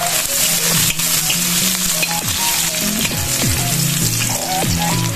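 Sliced ginger frying in a hot pan for Visayan beef paklay: a loud, continuous close sizzle and crackle with a few stirring scrapes, with no talking.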